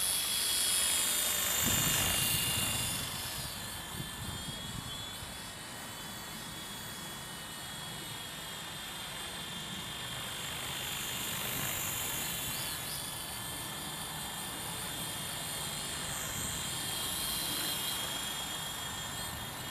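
Sky Dancer single-blade toy helicopter flying, a continuous high whirring buzz with a steady rotor drone that rises and falls slightly as it lands and lifts off again; no talking.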